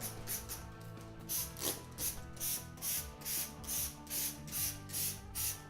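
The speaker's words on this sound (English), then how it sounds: "Just give it a spray everywhere." A spray bottle of cleaner is pumped rapidly over and over onto a sink, about a dozen short hissing bursts in a steady rhythm, close up and alone.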